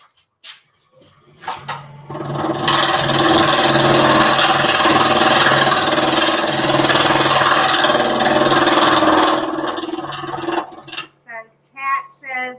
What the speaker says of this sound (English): hear my tool skipping over the resin